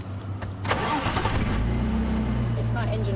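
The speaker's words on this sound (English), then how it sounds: "Let my engine run for a moment." A safari vehicle's engine turns over and settles into a steady idle, a close, continuous mid-pitched rumble, with someone talking over it at the start.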